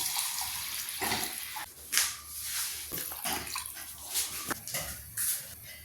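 Water pours and splashes into a cooking pot from a glass in several bursts, close by, with brief pauses and small clinks between pours, while making biryani.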